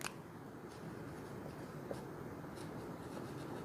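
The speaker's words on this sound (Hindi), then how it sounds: "नई लाइन से लिखेंगे" Chalk or marker scratches on a board during a Class 12 physics lesson, faint and close, with short strokes and taps spread across a quiet background.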